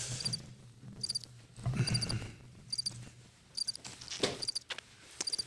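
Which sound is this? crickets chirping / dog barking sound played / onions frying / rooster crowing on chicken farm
crickets chirping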